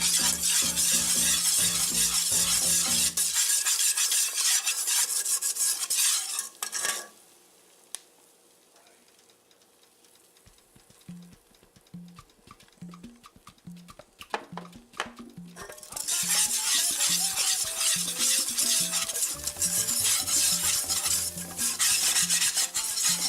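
A roux for chicken sausage and shrimp gumbo is stirred steadily in a pot, a loud continuous scraping and swishing that drops away to quiet for several seconds midway with light clinks, then returns at full strength.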